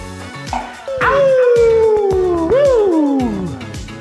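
A man imitates a wolf howl with his voice, a long loud rising and falling wail, close to the mic and standing alone after a brief exclamation.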